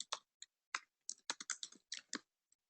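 Typing on a computer keyboard with long nails: a dozen or so crisp, close key clicks in uneven bursts with short pauses between them, clear against silence and with no speech.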